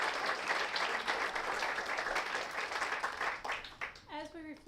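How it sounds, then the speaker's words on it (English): A live audience at an evening panel conversation claps in a full round of applause that holds steady, then thins out as a voice begins speaking over the last scattered claps. "Let's give them another round of applause."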